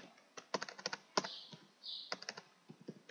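Rapid bursts of keystrokes on a computer keyboard, close and clear, in irregular clusters with short pauses, set in a quiet room with no talking.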